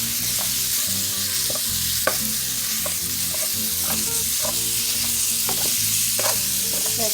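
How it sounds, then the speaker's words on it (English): Ground beef for cheesy quesadillas sizzles loudly as it browns in a pan, a steady hiss with repeated scraping and tapping of a spatula breaking it up. Close, with no voices. "go ahead and break your ground beef up, and we're going to cook it until it's brown"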